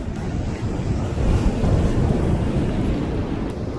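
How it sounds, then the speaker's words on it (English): Ocean surf on the coastline at Fort Stevens gives a continuous deep roar of breaking waves with wind buffeting the microphone, loud and steady throughout. "Definitely big ocean. I mean, this is the coastline"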